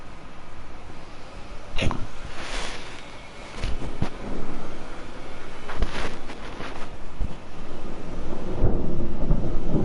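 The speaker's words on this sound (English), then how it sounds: "As you can hear right now, thunderstorm" A thunderstorm outside rumbles along with steady rain and wind, loud low crashes swelling and rolling at intervals over a constant hiss, with no voices.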